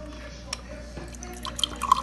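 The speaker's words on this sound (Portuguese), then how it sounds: "Água saindo, uma boa velocidade." Water runs from the dispenser of an LG side-by-side refrigerator in a soft, steady trickle with small drips, heard up close over a low, constant hum.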